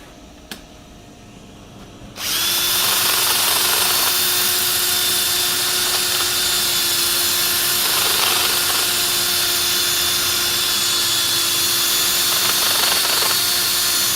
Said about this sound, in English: The other nice thing about using tulip is that it sands off really quickly.